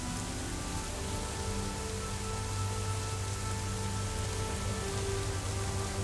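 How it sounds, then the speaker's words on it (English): Heavy downpour in a WW2 Pacific aircraft-carrier survival game: a constant, even hiss of rain over a low engine-like hum, with no voices. "Wow, it is downpouring rain."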